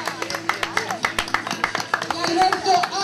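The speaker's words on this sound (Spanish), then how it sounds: "¡Fuerte el aplauso!" Scattered hand claps from a roadside crowd greeting a runner finishing a charity marathon in Cañuelas, with an announcer talking over the irregular, close clapping.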